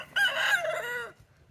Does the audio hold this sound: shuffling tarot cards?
no